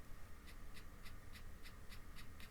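Soft, regular clicks of keys being typed on the compact built-in keyboard of a GPD Win 3 mobile PC, about two taps per second, faint under a steady hiss.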